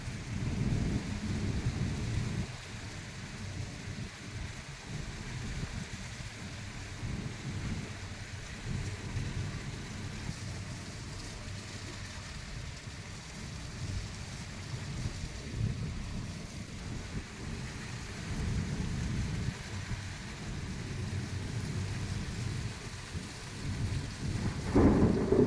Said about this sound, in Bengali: দেখো বৃষ্টি আর হাওয়া।